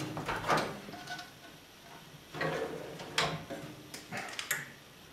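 A metal drawer on a steel welding cabinet cart slides and bumps, giving several quiet clunks and rattles spread over a few seconds, with no talking.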